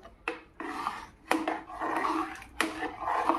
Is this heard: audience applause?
no